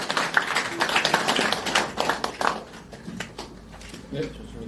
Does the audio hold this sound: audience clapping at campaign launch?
yes